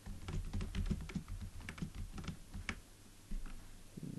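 Computer keyboard typing PHP code: quick, uneven bursts of close, soft keystrokes with brief pauses, heard alone in a quiet room.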